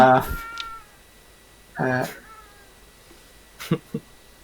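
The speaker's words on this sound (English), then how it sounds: "just cat" A cat meows a few times, two drawn-out calls a couple of seconds apart and then short chirpy sounds, heard up close indoors with little else around.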